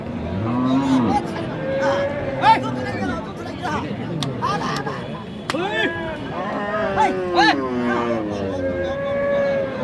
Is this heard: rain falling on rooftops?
no